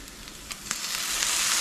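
Masala for chicken chilli bajji sizzles in a pan, with a few light taps as soy sauce goes in and a steady frying hiss that swells slightly near the end.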